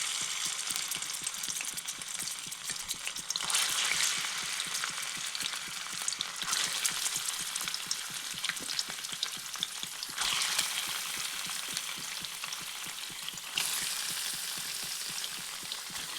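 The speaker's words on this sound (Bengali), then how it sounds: "তো এরপরে পনিরগুলি হালকা লাল লাল করে ভেজে নিচ্ছি।" Paneer cubes frying in hot white oil in a wok, a continuous close sizzle and spatter that swells in louder bursts every few seconds, with no voices.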